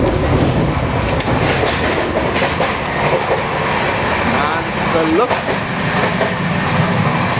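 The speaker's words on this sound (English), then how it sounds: "We just overtook Gorakhdham Express and it's blasting at 130 kmph." An Indian Rajdhani Express first-class AC coach rolls at around 130 km/h, with a constant loud rumble, rapid clickety-clack of wheels on rail joints and brief squeals, while someone speaks briefly over it.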